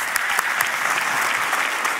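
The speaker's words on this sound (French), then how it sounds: "il faut s'arrêter à applaudir le Seigneur" Church congregation clapping to praise the Lord, a loud dense burst of applause filling the room, continuous and close.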